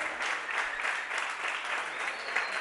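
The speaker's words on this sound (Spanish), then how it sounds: "Un fuerte aplauso para él, por favor, chicos" A crowd at a beatbox battle claps in sustained, dense applause, steady and fairly loud throughout, with no speech over it.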